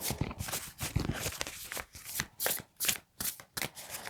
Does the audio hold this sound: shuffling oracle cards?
yes